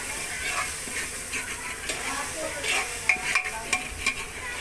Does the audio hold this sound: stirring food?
yes